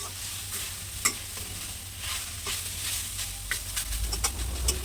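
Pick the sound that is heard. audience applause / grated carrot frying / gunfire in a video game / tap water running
grated carrot frying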